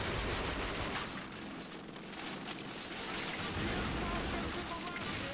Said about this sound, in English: There's just gunfire everywhere.